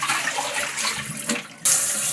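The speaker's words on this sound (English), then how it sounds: "I'm just gonna be rinsing this butter until it runs clear and we get all the buttermilk out" Cold tap water runs and splashes steadily into a bowl while homemade butter is rinsed of buttermilk, a continuous close rush that brightens into a harder hiss near the end.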